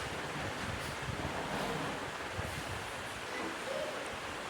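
Chopped garlic frying in hot oil in a pan on a stove, giving a steady, dense hiss of sizzling that carries on without a break.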